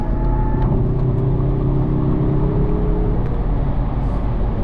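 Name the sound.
Mazda3 turbo car accelerating on the highway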